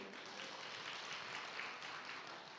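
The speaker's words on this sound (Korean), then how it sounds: "박수 한번 쳐주세요" A congregation at a Sunday church service applauds, a dense, even wash of many hands clapping together, soft and distant, holding steady throughout.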